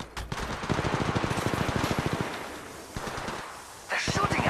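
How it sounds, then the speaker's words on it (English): Automatic weapons fire in rapid sustained bursts in the mobile game Apex Legends Mobile, with a long stretch of rattling shots, a brief lull, then another burst near the end. "They're shooting at me. Shots fired at me. Opening fire."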